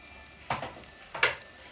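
Onion goes into a pot for coconut jollof rice, giving two short, soft sizzling bursts about a second apart over a quiet background, with no talking.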